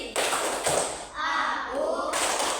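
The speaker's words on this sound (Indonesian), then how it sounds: "Tepuk konsentrasi." Children in a classroom perform a rhythmic concentration clapping chant, with sharp groups of hand claps and taps alternating with chanted voices, close and lively.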